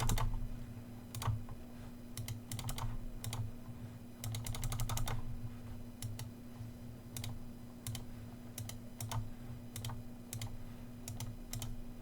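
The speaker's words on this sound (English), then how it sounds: "Some weird mouse clicking errors there." Computer mouse clicks during a Magic Arena digital card game, with single sharp clicks spread out and a quick flurry of rapid clicks partway through, all over a steady electrical hum.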